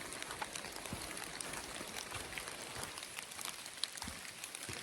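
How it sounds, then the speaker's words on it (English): Light rain falls steadily on a hiking trail at a creekside campsite in the foothills, a soft continuous patter with scattered drops and no talking. "The rain is pretty slim right here"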